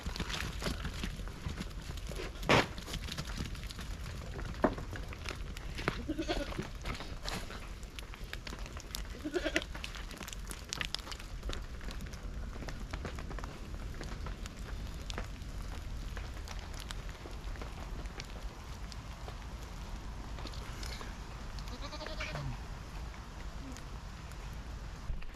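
Goats bleat on an off-grid homestead, several scattered calls rising over a steady noisy background, some near and some farther off, spread across the stretch.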